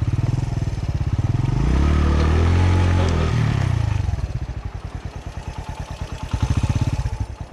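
A motorcycle engine revs and strains as the bike struggles up a narrow mountain footpath near Rakaposhi Base Camp, loud and close, surging then dropping into a lumpy, chugging idle with clattering.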